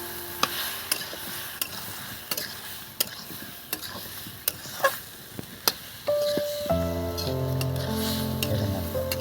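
Water is poured into spices frying in a pan for a thin rohu fish curry with potatoes; a run of sharp clicks and stirring taps gives way to a sudden, steady hiss and bubbling sizzle as the liquid hits the hot pan.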